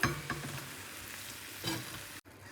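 Garlic and tamarind pickle is stirred in a hot pan, giving a soft frying sizzle broken by a couple of scraping spoon strokes, close and brief, with no voices.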